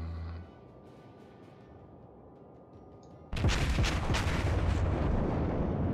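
Warship guns fire in the naval battle game World of Warships. After a few quiet seconds, a sudden loud barrage erupts into rolling, thunderous booms that keep pounding close and heavy to the end.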